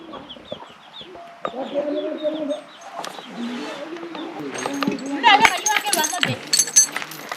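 Chickens clucking in a livestock pen of a tribal village in Angola, a run of close, irregular clucks and squawks under someone talking.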